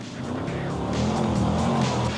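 Ford Ranger Pro Truck pickup roaring past at the Dakar rally, a loud, close engine note with tire noise that holds and swells.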